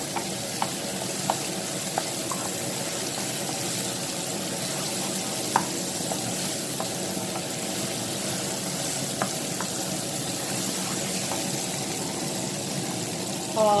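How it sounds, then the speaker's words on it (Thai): Garlic and red chili stir-fry in a pan for a Thai dish, giving a long, even sizzle with faint scattered clicks of the spatula and a brief louder clatter at the end. "ผัดให้หอมนะคะ"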